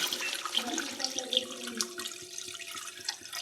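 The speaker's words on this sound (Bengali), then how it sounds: "এবার দিয়ে দেবো জল।" Water runs steadily into a pan of spiced kofta curry, a close, continuous splashing pour with a few small drips.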